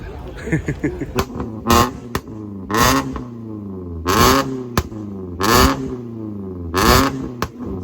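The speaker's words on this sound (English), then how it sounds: "Custom exhaust. This is the loudest vento in it." A Volkswagen Vento with a loud custom exhaust revs up in repeated sharp bursts, each rising and dropping back, close by.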